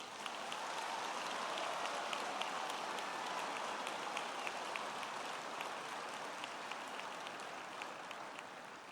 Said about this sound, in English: please give our graduates a warm round of applause for their remarkable achievements